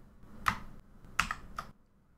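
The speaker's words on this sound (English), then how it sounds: "simply press Shift plus Delete key on your keyboard" Shift and Delete pressed on a computer keyboard, a few distinct crisp key clicks spaced over about two seconds in a quiet room, with no voices.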